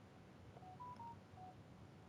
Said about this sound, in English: Oh, that's my phone going off